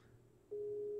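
A steady telephone tone switches on midway and holds at constant pitch to the end, following a quieter hum of line noise.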